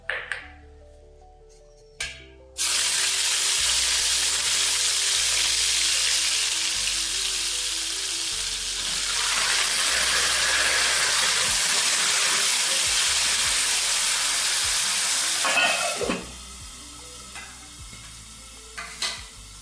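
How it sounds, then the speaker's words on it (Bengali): Bitter gourd, drumstick pieces and peas fry in oil for a village-style shukto, a loud dense sizzle that bursts in suddenly after a quiet start and continues steadily before fading near the end. "এবার এই তেলে বাকি যে অবশিষ্ট সবজিগুলো আছে ওগুলো ভেজে নেব, যেমন করলা, সজনে ডাঁটা আর তোমার মটরশুঁটি।"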